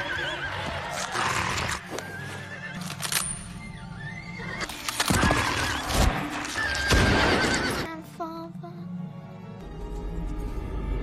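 In a World War II film scene from Enemy at the Gates, a bait horse neighs and whinnies repeatedly amid hoof clatter, dense scored music and action noise, loud and sustained.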